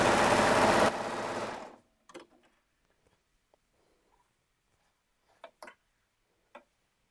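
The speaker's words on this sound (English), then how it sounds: "take it over to my sewing machine, and sew a new seam allowance into it" A sewing machine stitches a new seam on a garment band, running loud and steady close by for almost two seconds before stopping, followed by a few faint clicks and small handling taps.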